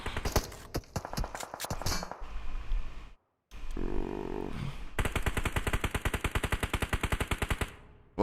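Gunfire in the PUBG Mobile video game: dense bursts of rapid automatic shots, a short silent gap, then a long steady stream of evenly spaced loud rounds ending abruptly.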